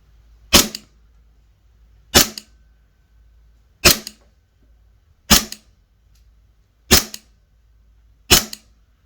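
An airsoft Glock 17 pistol test fires BBs outdoors, six sharp isolated pops at an even pace about every one and a half seconds, close and crisp with quiet between shots.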